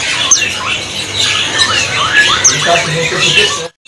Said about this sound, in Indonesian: kopior jambulnya yang sudah rajin bunyi